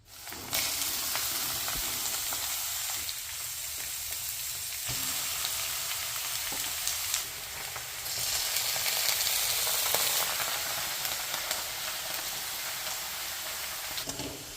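Cluster beans poriyal stir-frying in a pan produces a steady, close sizzling hiss with occasional soft stirring scrapes, continuous and even throughout with no talk.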